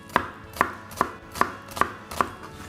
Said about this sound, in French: On va venir ciseler notre oignon.